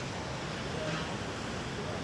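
Medium surf rolls in at a beach in Da Nang, Vietnam, in the rainy season, a continuous broadband wash of breaking waves mixed with wind noise across the short stretch, with no clear voices.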